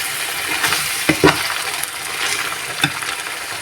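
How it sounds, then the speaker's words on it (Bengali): Prawns with coconut paste stir-fry in a pan for a prawn bhuna, a steady hiss of sizzling broken by a few sharp scrapes and clinks of the spatula, close and alone. "নারকেল বাটা দিয়ে আমি আরো কিছুক্ষণ কষিয়ে নেব।"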